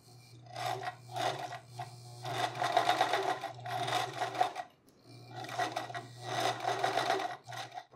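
A sewing machine stitching a buttonhole runs in short repeated bursts of fast, buzzy stitching with a steady motor hum, stopping and starting as it works back and forth up close. It is quiet and nobody speaks.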